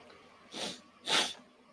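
Two sharp, breathy sneezes from a person with the sniffles, close to the mic, about half a second apart, each a sudden hissing burst in an otherwise quiet room.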